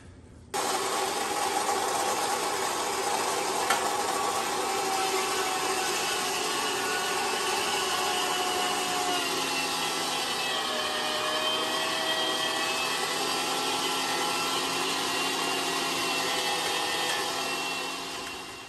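Electric meat grinder running continuously as brisket and bacon are fed through, a steady loud whirring motor drone with a slight pitch shift midway, close and alone, tapering off at the end.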